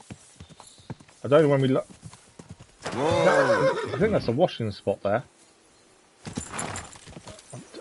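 A horse in Kingdom Come Deliverance 2 clops its hooves and lets out a whinny, heard close by under someone talking over the gameplay.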